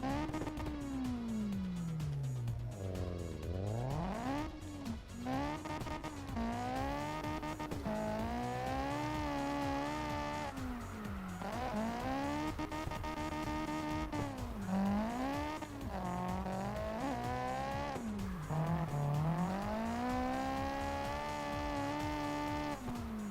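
Tuned SL80 drift car in the CarX Drift Racing video game, its engine note rising and falling in repeated revving sweeps while tires squeal continuously through slides, steady and fairly loud with no talk.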